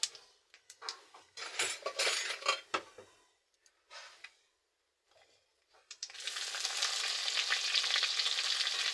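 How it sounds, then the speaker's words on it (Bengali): Onions frying in oil in a pan, stirred with a utensil: bursts of scraping and crackle in the first half, then a steady, louder sizzle that continues to the end. "এবার পেঁয়াজটা দিয়ে দেবো"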